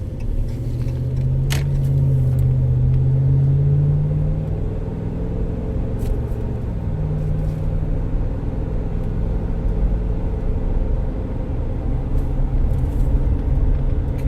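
Inside a 2015 Ram 1500 pickup on a road test, a steady low drivetrain drone and rumble carry throughout, with a humming tone that rises and fades as the truck goes on and off the gas.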